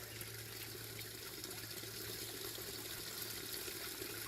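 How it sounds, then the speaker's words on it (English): A small forest creek near a mountain hiking trail runs in a soft, steady wash of flowing water, faint and continuous with no voices. "I'm just by a creek."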